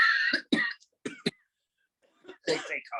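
Several sharp coughs come in quick bursts, close and dry, and a short burst of talk follows a pause.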